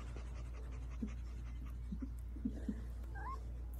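A dog pants softly and steadily in a quiet room, with a few faint higher whimpery squeaks near the end.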